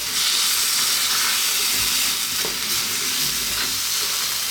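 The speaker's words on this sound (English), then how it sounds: "We're stir frying now, not boiling." Chicken stir-fries in a hot pan with garlic, ginger and sliced onions, giving a loud, continuous sizzle and hiss with occasional stirring scrapes, and no talking.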